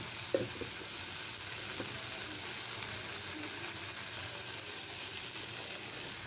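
Tomatoes and onions sauté in hot oil for a Chettinad fish curry, a steady close sizzle with occasional soft stirring clicks and no talk.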